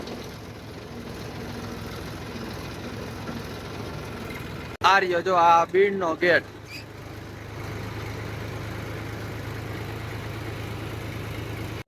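A tractor engine idles steadily on a farm in the Gir area, a low continuous rumble that continues while someone speaks briefly partway through.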